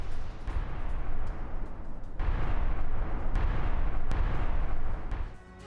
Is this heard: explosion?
yes